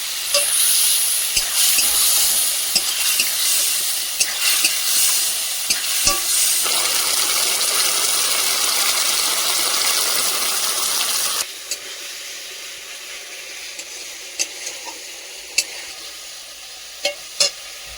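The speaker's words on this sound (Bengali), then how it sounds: "দিয়ে খুব ভালো করে মশলাটা কষিয়ে নেব।" Spice masala with coriander powder sizzles loudly while being stirred, a dense frying hiss with scraping strokes that drops to a quieter simmer partway through, punctuated by occasional sharp utensil clicks.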